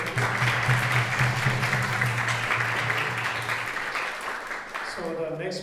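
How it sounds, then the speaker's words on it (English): Audience applause after a devotional class fills the room as steady, dense clapping, with a low hum underneath, then fading as voices and a sung tone begin near the end. "Let's have a big round of applause for him."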